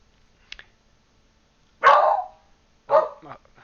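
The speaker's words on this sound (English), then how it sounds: "that's my dog barking in the background" A dog barking in the background indoors, a few sharp barks with silence between, the first faint and the last two loud and close, with no talking.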